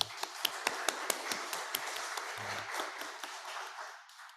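A church congregation claps together in a brief burst of applause, with some sharp individual claps standing out before the sound tapers off.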